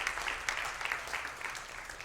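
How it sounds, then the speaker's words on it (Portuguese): A church congregation applauding during a Bible school service, a soft, distant, continuous patter of many hands clapping. "Você pode aplaudir ao Senhor por esse tempo?"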